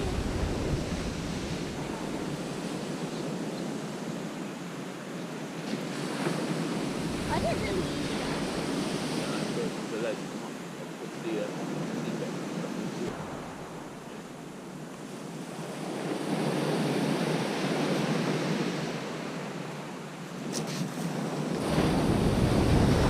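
Night surf and wind on a vast open shingle beach at Seaford, East Sussex, with no groynes: steady broad wash of waves swelling and easing, gusty wind buffeting the microphone throughout, no voices.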